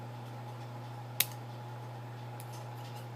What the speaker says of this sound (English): First, you need to cut the filament at an angle.